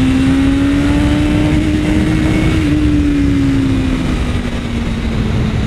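BMW S1000RR inline-four sport motorcycle engine holding a loud, steady high-rev drone close by, its pitch climbing slightly and then easing, with wind rush underneath and no talking.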